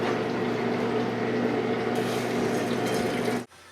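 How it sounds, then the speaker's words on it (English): Broth poured through a strainer into a clean skillet on a stove with the heat left on, giving a steady close liquid splashing and trickling that runs evenly for a few seconds, then cuts off abruptly. "We're going to strain the broth into a clean skillet."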